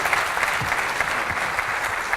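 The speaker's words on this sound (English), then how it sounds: "A round of applause for them." Conference audience applause for two participants, a dense, even wash of clapping that holds steady throughout the brief stretch.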